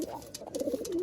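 Malwai pigeons coo in a short, close series of soft, throaty notes with no other sound.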